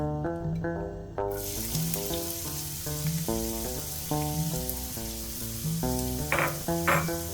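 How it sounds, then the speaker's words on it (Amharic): Onions sizzle and crackle steadily in hot oil in a frying pan, a continuous frying hiss under loud, rhythmic music that plays throughout. "ሽንኩርታችንን በዘይቱ እናበስለዋለን ማለት ነው።"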